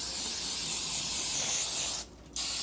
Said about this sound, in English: I'm going to spray them again.